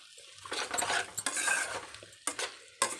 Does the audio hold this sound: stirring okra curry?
yes